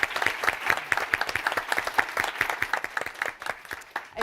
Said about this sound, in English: let's give one more round of applause for our panelists today.